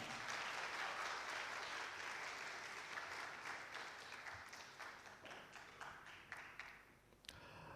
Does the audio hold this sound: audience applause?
yes